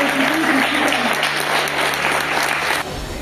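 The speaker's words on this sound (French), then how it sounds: "on les applaudit très fort, les filles." Sustained applause and cheering from a roadside crowd at a cycling criterium in Chazelles-sur-Lyon, steady and dense throughout, with a faint voice briefly audible early on.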